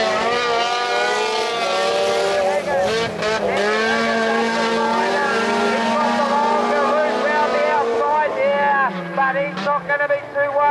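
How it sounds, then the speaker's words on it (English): Several altered race cars at an MDTC meeting race in a tight pack, their engines whining loudly as they pass close by, with pitches rising and falling and shifting against each other, under a commentator's voice. "Nice close race for three cars. So great to see when they stick together like this."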